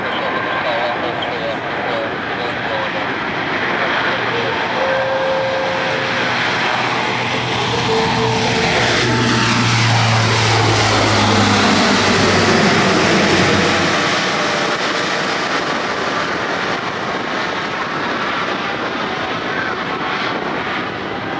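Allison turboprop engines of about 4,500 horsepower each roar steadily at an airshow and swell louder as the plane passes close by, then ease off, with a voice talking over part of it.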